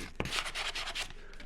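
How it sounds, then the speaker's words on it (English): Sandpaper rubbed along the edges of a small handmade doughnut-shaped gift box, giving a few quick, close, scratchy strokes in a steady back-and-forth rhythm with no talking. "Then we use the sandpaper and sand the edges down so they're really nice and smooth."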